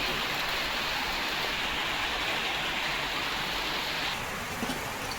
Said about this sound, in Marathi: किती पाऊस येतोय ना